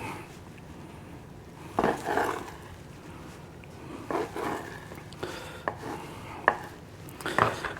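A knife slicing through juicy grilled tri-tip beef, giving several soft cutting strokes and board taps spread out over a quiet background, close by with no talk.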